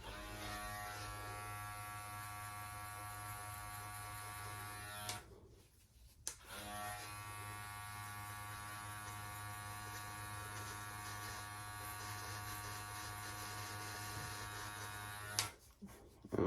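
Electric hair clippers buzz steadily while cutting hair at home with the lever adjusted. The even, fairly quiet drone drops out briefly twice before resuming.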